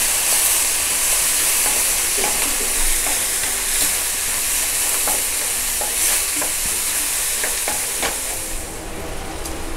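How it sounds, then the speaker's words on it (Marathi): Onion and tomato fry for a gravy in a loud, close, continuous sizzle, with repeated spatula scrapes and stirs breaking through. "व्यवस्थित भाजलं जातं आहे कांदा टोमॅटो"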